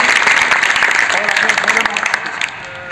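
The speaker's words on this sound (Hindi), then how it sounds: "मैं चाहूँगा जोरदार तालियों द्वारा आप स्वागत करें" A school assembly crowd applauds with dense, sustained clapping that gradually thins and fades toward the end.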